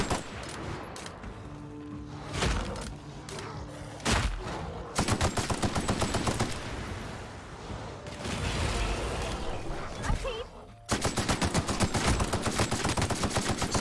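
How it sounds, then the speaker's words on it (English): Rapid gunfire in The Outer Worlds while shooting an enemy: loud, dense bursts of automatic shots with sharp single cracks between them, nearly continuous across the stretch with brief pauses and mechanical clatter. "Just keep shooting him."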